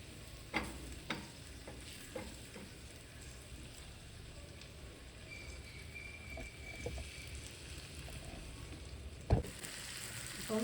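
Fish fries quietly in a non-stick pan, a soft continuous sizzle with occasional sharp taps and scrapes from a wooden spatula turning the pieces, close but faint, with no talking.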